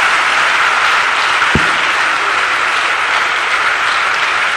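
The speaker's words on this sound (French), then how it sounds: "Acclamons pour Jésus-Christ" Church congregation applauding steadily, a dense, sustained wash of clapping from many hands that stays loud and even for several seconds without speech over it.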